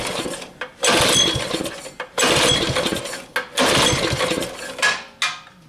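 A tiller engine running badly at half choke surges in three loud bursts of roaring revs separated by sudden drops, each burst cutting out before the next.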